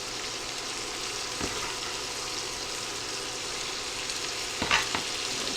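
Diced small onion sizzles in a pan, a soft, continuous frying hiss with a few light stirring knocks near the end, no talking.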